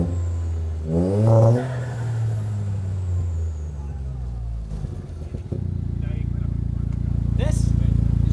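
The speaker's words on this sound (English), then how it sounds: "I want to try to record the sound and the noise that this car makes" A straight-piped Toyota GR Yaris engine idles, then blips and rises into a loud, raspy rev that swells and holds near the end, with a voice speaking briefly early on.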